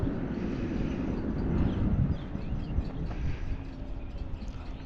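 A model airplane, the Apprentice, flies outdoors in strong gusty wind, its broad steady drone and wind rumble holding at a constant distance, swelling slightly midway, with no talking.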